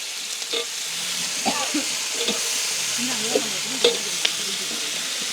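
Chilies and tomatoes fry in oil with a steady sizzle, with occasional stirring clatters, in a village cooking setting; no one speaks.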